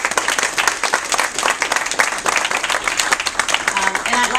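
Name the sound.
audience applause for Governor Paterson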